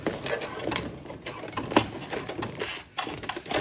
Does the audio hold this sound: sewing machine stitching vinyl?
yes